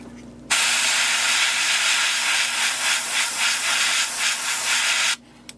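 Airbrush spraying paint onto a fishing lure for a mouse fur pattern, a close steady hiss that starts abruptly, pulses slightly as the spray is worked across the lure, then cuts off sharply.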